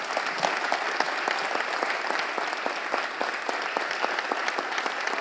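Applause from a church congregation during an evening conference service, a steady mid-level wash of clapping with distinct individual claps standing out rhythmically throughout.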